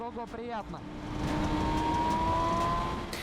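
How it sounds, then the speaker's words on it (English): A steady engine drone from an MV Agusta Brutale 1000RR motorcycle holds beneath a brief voice at the start, the exhaust tone rising and sustaining with a faint whine over a low rumble. "Exhaust sounds really good."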